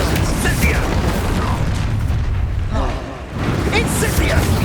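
Incendio fire spell being cast in the video game Hogwarts Legacy, a loud, sustained roaring boom of flame and combat effects that briefly dips before surging again, with a voice talking over it.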